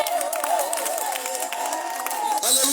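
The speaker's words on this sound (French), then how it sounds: "Avec des cris de joie, de louange, d'acclamation" A church congregation at an intense healing prayer night cheers and shouts with joy, a dense sustained roar of many voices with rising wails and whoops, loud and continuous throughout.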